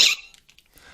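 A Minecraft ghast charge: a sharp, bright hissing burst up front that quickly decays, followed by faint scattered ticks and soft breathy traces in near silence.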